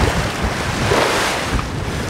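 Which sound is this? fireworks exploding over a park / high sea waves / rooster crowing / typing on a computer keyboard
high sea waves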